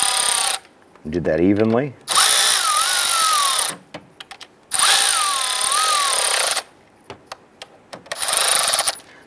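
A power driver tightens steel bolts into the aluminum valve cover of a 2005-2010 Chrysler 300, in several loud whirring bursts separated by pauses, with someone speaking briefly.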